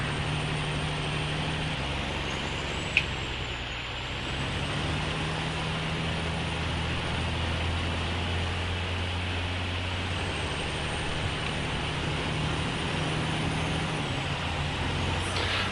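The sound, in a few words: Western Star truck engine straining in SnowRunner video game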